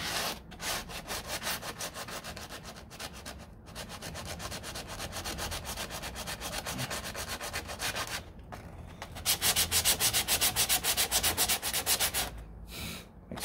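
Body filler on a 1969 Corvette C3 door is sanded by hand without a block, making a steady, close rhythmic rasp of back-and-forth strokes that continues for several seconds, pauses briefly, then resumes harder and louder.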